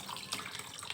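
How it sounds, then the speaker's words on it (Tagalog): Tilapia fish being washed under a running tap, a steady rush and splatter of water with small splashes, close and continuous. "Hugas lang ng hugas habang may tubig pa."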